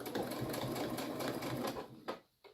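Sewing machine stitching a run along the ear loop of a fabric face mask, a close, rapid, steady whirring chatter that stops abruptly near the end, with no voices.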